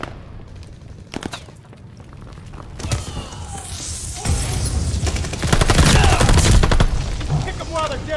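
Loud, rapid gunfire fills a Call of Duty: Vanguard Hardpoint match, with dense bursts of automatic fire and sharp shots building to a heavy sustained volley.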